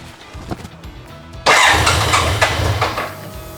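A BMW K100 motorcycle engine cranks and catches with a sudden loud burst after a quieter stretch of clicks and shuffling. It then runs rough and uneven close by for a couple of seconds.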